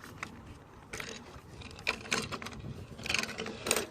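A hand crank ratchet lowers a suspended boat engine. It gives a series of close mechanical clicks and gear ratcheting in irregular bursts over a low background hum.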